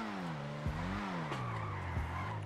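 A car in GTA Online pulls away with a droning engine that rises and dips in pitch while its tires squeal and skid in short bursts, loud and close throughout.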